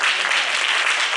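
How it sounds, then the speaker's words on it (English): A church congregation claps for the pastor during a pastor's appreciation service, a brief, dense, steady round of applause filling the room with no talk over it. "Can y'all clap for him again?"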